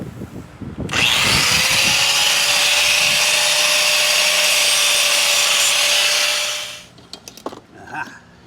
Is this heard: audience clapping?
no